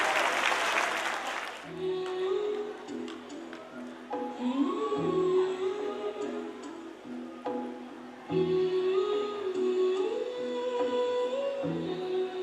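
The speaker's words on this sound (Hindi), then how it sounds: "जोरदार तालियों से हमारे विद्यार्थियों का स्वागत करेंगे।" An audience at a school annual function applauds over a song with music playing, the clapping rising at the start and continuing under the melody.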